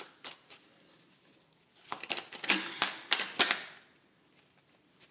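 Tarot cards shuffled by hand, a run of crisp riffling clicks and flutters that builds in the middle and fades out, close and fairly quiet with no talk.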